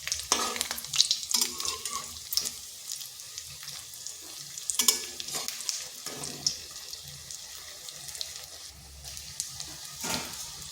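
Semolina and carrot snacks fry lightly in oil, a soft crackling sizzle with intermittent stirring clatters and scrapes, fairly quiet and uneven, with no talking.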